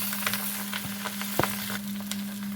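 Egg, vegetables and noodles fry in a pan with a close, continuous sizzle and crackle, punctuated by a few sharper stirring clicks and spatters.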